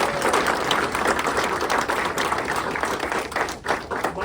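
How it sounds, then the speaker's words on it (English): A crowd at a retirement event applauds retiring police chief Kurt Althouse after 33 years in law enforcement, a loud sustained round of clapping that tapers slightly at the end. "We'll give him applause now just to get it started"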